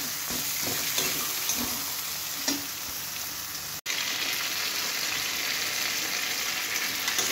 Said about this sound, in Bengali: আলুটা আগে ভেজে নিয়ে নিই, ওই জন্য আগে আলু দিয়ে দিলাম।